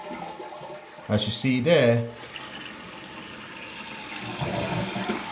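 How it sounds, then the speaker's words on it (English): A newly installed toilet kit flushes with a brief loud rush of water lasting about a second, then fades to a quieter refilling trickle under a voice. "So let's flush that and see how long this thing is going to stay open"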